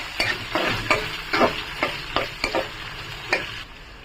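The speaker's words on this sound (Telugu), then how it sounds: "స్పూన్లో జీలకర్ర, కట్ చేసుకున్న ఒక 6-7 పచ్చిమిరపకాయలు, ఆనియన్లు ఇవి బాగా ఫ్రై అవ్వాలి" Cumin, six or seven cut green chillies and onions frying in about five spoons of oil for egg fried rice, with a steady sizzle under a quick series of close spatula scrapes and stirs.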